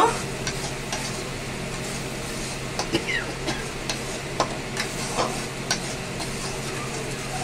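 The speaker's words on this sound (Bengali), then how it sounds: "এবার মশলাটা খুব ভালো করে ভেজে নেব" Spice paste with turmeric, chilli and salt frying for a chicken keema curry, a constant crackling sizzle broken by irregular spoon taps and stirring scrapes, close and even in level.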